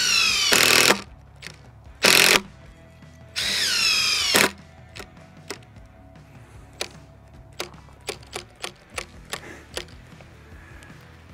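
A cordless impact driver fires three loud, whining bursts as it drives screws. The bursts are followed by a string of faint, sparse clicks and taps as its battery runs down.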